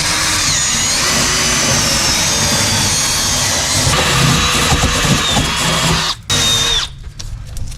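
Loud, continuous whine and grinding of a power tool working rust off a steel car frame near the gas tank, up close and steady, cutting out briefly before a shorter burst.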